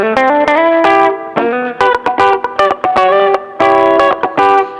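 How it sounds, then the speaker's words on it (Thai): A short phrase on an electric guitar's middle pickup, quick, bright notes and chords with a slight twang, played up close and alone. "อาจอาจจะฟังดูคล้ายๆแบบว่ามีความแบบทแวงทแวงนิดๆ"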